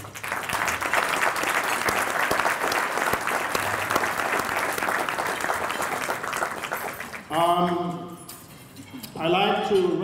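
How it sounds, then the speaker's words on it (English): Audience at a law school alumni awards dinner gives a sustained round of applause, dense and steady for about seven seconds before fading, followed by a voice speaking alone. "I would like us to give Terry a round of applause"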